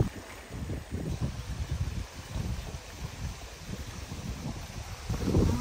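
Steady, gusty wind rushes and rumbles across the microphone while fishing in Manitoba, Canada, a low buffeting roar that never lets up, with no voices.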